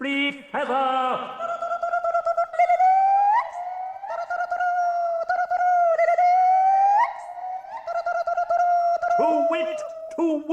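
Birds call in an audio play of The Birds: sustained warbling and whistling calls slide up and down in pitch, loud and close, running almost continuously with brief gaps.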